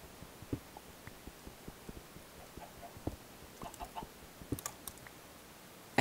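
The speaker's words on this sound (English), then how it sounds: "I hear the chickens" Chickens in a survival video game, soft scattered clucks and low rumbling sounds spaced irregularly, faint against a quiet background.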